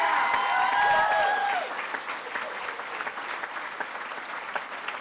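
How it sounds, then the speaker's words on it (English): A studio audience at a rock show breaks into a loud, dense round of applause, with a few sustained tones ringing over the opening second before the clapping settles into a steady, slightly softer wash. "give Tyler a big round of applause for what he's doing for our country"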